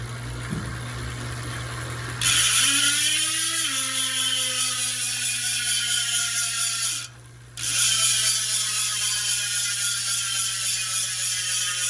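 A freewheeling rear hub on a Specialized Turbo Creo SL Expert e-bike with Roval CLX 64 wheels, DT Swiss 350 hubs and a 54-tooth ratchet buzzes in a fast, loud, continuous clicking whir that winds down, pauses briefly, then resumes.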